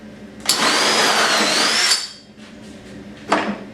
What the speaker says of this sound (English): now I'm prepped and ready to drill from the other side